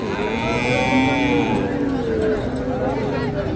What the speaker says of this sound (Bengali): এখানে আরও একটা ছোট বাসুর আছে